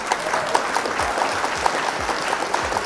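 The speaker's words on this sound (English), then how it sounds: "Round of applause for our opponent." A crowd applauding steadily at a Flesh and Blood trading card game event, brisk overlapping claps with a few sharper individual claps standing out, fairly close and loud.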